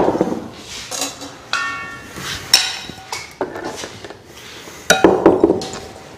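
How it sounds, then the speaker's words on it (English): Cheese scraped out of a blender jar with a utensil for a raw cuisine dish: a series of sharp clinks, taps and scrapes against the container, irregular and close, with no talk. "we're going to scrape our cheese out of this blender"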